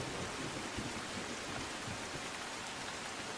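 Steady rain pours down during a spell of widespread heavy rainfall in Navsari district, Gujarat, a dense even hiss with no let-up, continuous and alone.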